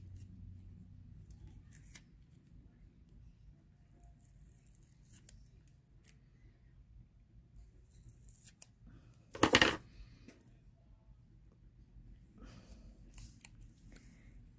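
Scissors cut off the end of a planner sticker in a single crisp, close snip midway through an otherwise quiet stretch with faint handling noise.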